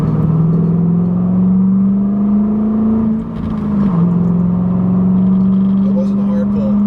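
A 2005 Mustang GT V8 engine hums steadily at a low pitch with a mild rev and slight dip midway, a smooth, restrained soft pull rather than a hard acceleration.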